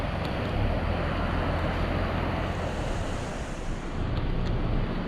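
Floodwater rushes through a flooded area near Pennington Gap in Lee County, Virginia, a steady, loud roar of moving water with wind buffeting the microphone throughout, no voices.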